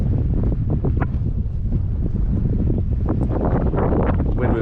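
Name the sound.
strong north wind on the coast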